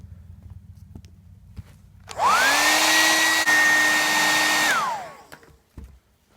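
A hair dryer switches on to heat the red knee pads on a WWE Mattel Undertaker or Chris Jericho action figure, running steadily at close range for about three seconds with a loud whine, then cutting off.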